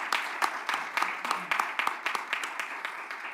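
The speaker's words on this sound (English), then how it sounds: "So I think we can clap," Conference audience claps at a moderate distance, distinct individual hand claps forming a steady, fairly sparse patter throughout, somewhat quiet.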